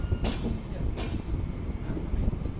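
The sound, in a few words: train pulling into Krishnanagar City Junction station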